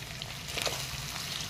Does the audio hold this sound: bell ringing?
no